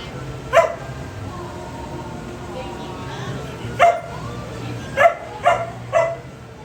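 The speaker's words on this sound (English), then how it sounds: "Oh, he's playing with the bubbles." Small dog barks and yips in short bursts, one early and a quick cluster of three or four later, while the puppy plays with bubbles outdoors at a theme park, with people talking in the background throughout.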